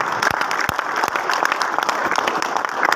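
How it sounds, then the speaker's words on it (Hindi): A large audience at a motivational seminar claps loudly and continuously, a thick wash of applause with a few sharper individual claps standing out. "जोरदार ताली,"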